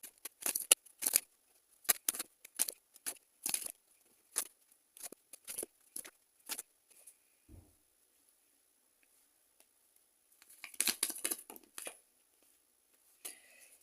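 Tarot cards being drawn, shuffled and laid down, a series of crisp, papery snaps and flicks in quick irregular bursts, close and fairly quiet, with a pause before a final flurry of riffling.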